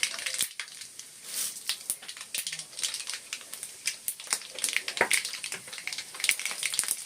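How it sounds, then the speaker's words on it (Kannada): Mustard seeds dropped into hot oil for bansi rava upma crackle and pop in sharp, irregular bursts, close and busy over a steady sizzle, with no talking. "ನೋಡಿ ಇವಾಗ ಎಣ್ಣೆ ಬಿಸಿ ಆಗಿದೆ ಸಾಸಿವೆ ಹಾಕ್ತಾ ಇದ್ದೀನಿ"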